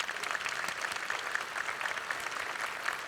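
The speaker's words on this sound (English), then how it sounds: "Let's give them all a round of applause." Banquet guests at a chamber of commerce dinner give a round of applause for honorees who have risen, a dense, even wash of clapping from a room full of people.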